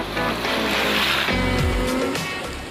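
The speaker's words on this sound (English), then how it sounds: "Up first is driving through water." Skoda Yeti Outdoor SUV fording water off-road, a loud continuous wash and rushing splash of water around the vehicle with engine rumble beneath, close and steady throughout.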